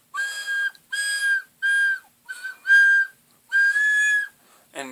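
A recorder with finger holes not fully covered gives a series of about six shrill, steady squeaking whistle tones, each lasting around half a second with short gaps between, loud and close, with no talking.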